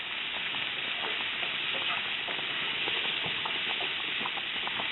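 Alfredo white sauce for fettuccine simmers in a pan over medium gas, giving a soft, steady bubbling sizzle with faint scattered pops throughout and no voices.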